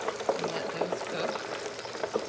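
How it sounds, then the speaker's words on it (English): Small smelt fish fry in a fryer, bubbling and crackling oil with quick popping spurts, close and moderately loud. "So I'm now gonna cook the smelt till they're dry and crispy."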